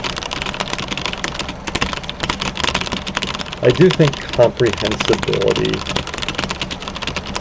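Typing on a computer keyboard during sentence practice on a typing website, a steady patter of key clicks running throughout, with a person talking over part of it.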